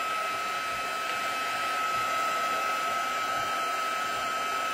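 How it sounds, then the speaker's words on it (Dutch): A hair dryer blows steadily at close range onto spray ink on paper, giving a continuous, even whir with a fixed tonal hum, with no talking. "Veel spray, veel föhn."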